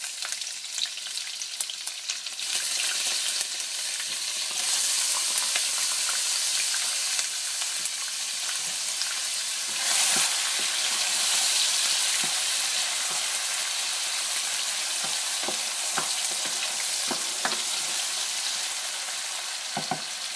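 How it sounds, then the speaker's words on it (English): Onion, garlic and pepper sauté in a hot pan for curry chana and aloo, a loud, dense sizzle that holds steady throughout, dotted with faint stirring scrapes and pops. "we're going to saute this until the onions get a little brown around the edges"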